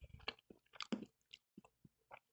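Someone chews a crunchy, spicy chicken samosa up close, producing a string of short, crisp crunches with brief pauses between bites.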